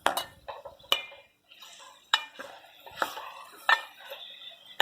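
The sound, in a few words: ground spices being added and stirred in a frying pan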